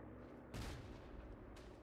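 Mortar shells go off in the World War I shooter Verdun during a competitive trench match, one loud broadband blast near the middle standing out over a steady rumble of distant battlefield gunfire.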